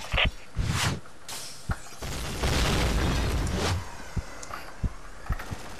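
A grenade goes off in the online shooter Point Blank: several booming blasts and bursts mixed with scattered gunfire and game noise, loud and close, no voices.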